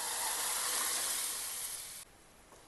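Cooked toor dal and spinach hitting hot spiced oil in a pan, a loud steady sizzle that drops sharply near the end to a softer hiss.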